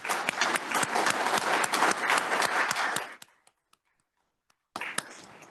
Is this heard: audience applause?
yes